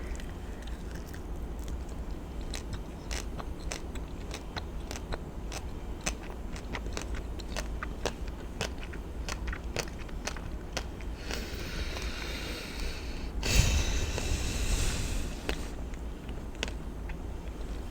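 Close-up crunchy chewing, with sharp crackling bites repeating in a steady rhythm, broken briefly by a louder rustle near the end.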